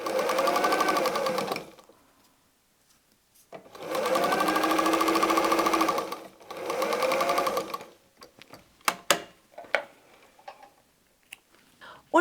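A sewing machine stitches patchwork star fabric in three steady whirring bursts, close and loud, separated by pauses, followed by scattered clicks and handling of the cloth.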